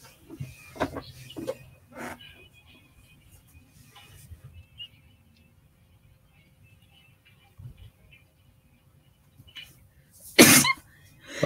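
A single sharp human sneeze bursts out loudly near the end, after a stretch of quiet room sound with a few faint earlier vocal noises.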